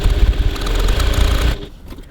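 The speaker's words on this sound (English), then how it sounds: "So now I'm going to baste these side edges, or these long raw edges, together using a 3 millimeter 1/8 of an inch seam" A sewing machine bastes the long raw side edges of a handbag's fabric with a 3 mm seam, giving a close, steady mechanical whir and rattle that cuts off abruptly near the end.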